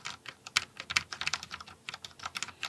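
Fingers type on an Alienware AW510K low-profile RGB gaming keyboard, producing a fast, uneven run of close, soft clacking keystrokes with no voices.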